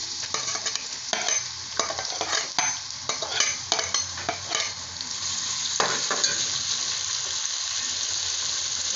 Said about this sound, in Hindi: अब प्याज को लाइट ब्राउन कर लेंगे हम।